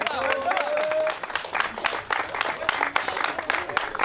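Applause rises for Florent, first of the top ten at the Cantal Motor Show awards, an audience clapping in sharp scattered bursts while people keep talking over it.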